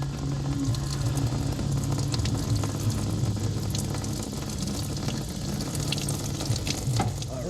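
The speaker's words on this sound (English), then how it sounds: "So we're going to get this water draining while we start pulling hoses." Water draining out of a 2004 Tacoma radiator during a radiator swap, a continuous hissing, splashing stream that stays loud and steady throughout.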